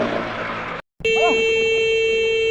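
After a brief cutout, a steady loud horn blares continuously and close, a single unbroken honk following a noisy, rumbling stretch.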